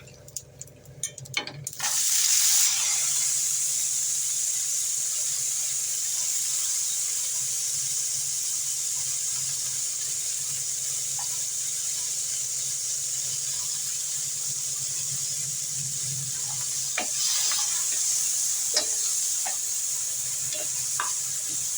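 Pirandai (adamant creeper) sautés in a pan with chana dal, a steady loud sizzle and hiss running throughout after a brief clatter at the start, with a few light stirring knocks later on.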